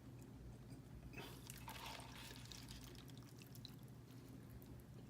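Hot water poured into a bowl of ramen noodles with hot dog meat, a soft steady splashing trickle that runs alone for several seconds, quiet and close.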